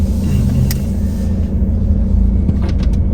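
A business-class car drives on the road at the start of an early-morning ride to Helsinki, a loud, steady low engine and road rumble from inside the cabin with a few faint clicks and no voices.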